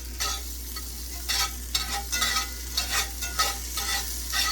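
Sweet onion sizzles in a pan over raised stovetop heat for a chicken Alfredo lasagna, with a steady close fry broken by repeated stirring scrapes and bursts of crackle, no voices.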